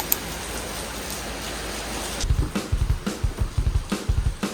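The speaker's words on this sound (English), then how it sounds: "Though it was pouring, we were not gonna let a little rain ruin our day" Pouring rain hisses steadily as a dense wash, then heavy thumping drips or patters join in a quick uneven rhythm nearby, with no talking.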